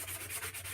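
Sanding along the edges of a wooden door hanger, a steady, quiet rhythmic rubbing in short repeated strokes, with no talking.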